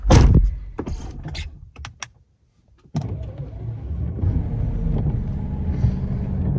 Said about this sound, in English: as I close the door,